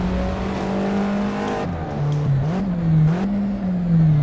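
A race car engine in a racing video game drops to second gear into the first corner: a steady droning note falls with the downshift, then wavers and rises again as throttle comes back on, loud and close.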